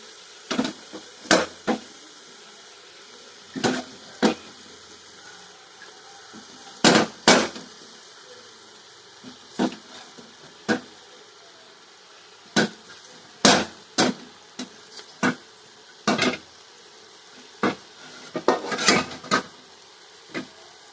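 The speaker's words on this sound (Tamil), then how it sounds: "இந்த எண்ணெயிலே நல்லா எல்லாத்தையும் கிளறி விடுங்க காளான் மசாலா எல்லாம் வதங்கட்டும்" Oyster mushrooms and masala being stirred in oil in a clay pot: sharp, irregular scraping and clinking strikes of a utensil against the earthenware, with a soft background sizzle, no talking.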